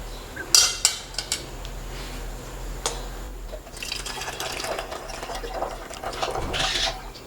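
Hibiscus tea being strained through a filter into a cup, with sharp clinks of utensils and cup followed by a soft, continuous trickle and splash of pouring liquid, close by.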